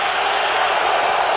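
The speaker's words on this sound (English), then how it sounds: "Crowd still booing" Steady roar of a large crowd in a football stadium at an NFL game, San Francisco at Philadelphia, booing continuously. Dense, even wash of voices at a constant loud level throughout, with no clear individual speech.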